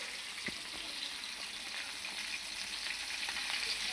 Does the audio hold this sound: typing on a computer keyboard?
no